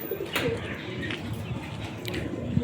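Pigeons in a home loft give soft, rolling coos, close and moderately loud, with faint chirps and a brief flutter of wings.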